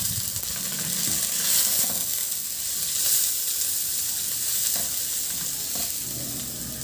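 Garlic, ginger and onion sautéing in hot oil in a pan for a fish dish, a constant loud hiss of frying with occasional stirring scrapes, close and uninterrupted by talk.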